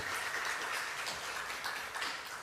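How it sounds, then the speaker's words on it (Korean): Congregation applause in a church during a Sunday afternoon worship service, a faint, steady patter of many hands clapping that holds evenly throughout. "우리 한 번 더 뜨겁게 박수 한번 부탁드리겠습니다."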